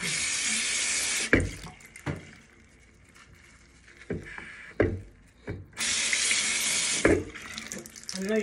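Tap water runs steadily into a sink during face washing, pouring in long continuous stretches broken by quieter gaps with splashing and handling sounds, close and fairly loud.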